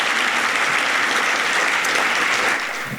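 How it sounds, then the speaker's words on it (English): Sustained audience applause fills a 2024 scholarship and Kente Award ceremony, a dense steady wash of clapping that stays loud throughout and eases slightly at the end. "Can we give a round of applause to all of our students and recipients?"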